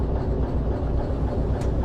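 Train brake released in the railway simulation game Derail Valley, a steady low rumble of air and machinery that holds evenly throughout without a distinct hiss or clunk.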